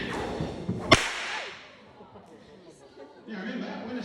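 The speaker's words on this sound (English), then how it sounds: "when we crack the whip, it makes a very loud bang" An Australian stockman's whip cracks once at a wildlife park, a single sharp, loud bang followed by outdoor crowd murmur and chatter.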